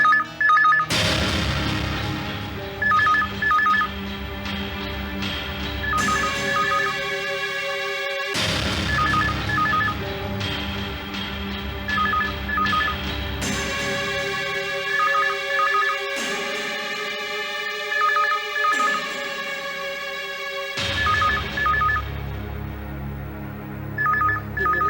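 A telephone rings in repeated electronic bursts over a dramatic musical score, the ringing pattern recurring every few seconds throughout a tense crime-story scene.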